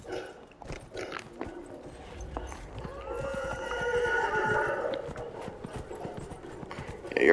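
In the video game Dragon Age: Inquisition, hooves clip-clop at a gallop while a horse lets out a shrill neigh partway through, over a soft background hum.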